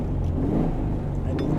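A 1963 Porsche 356 B engine rumbles steadily at a strong, even idle-to-rev level, close and continuous with deep low-end drone and no speech.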